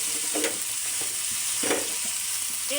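Spice paste with turmeric, salt and coriander powder fries and is stirred in a pan for a kathkochu (taro) curry, a steady close sizzle broken by repeated scraping stirs.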